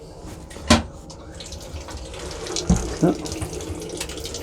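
Water runs from a tap on a train, a low steady flow with a few sharp knocks and clicks. A person speaks briefly.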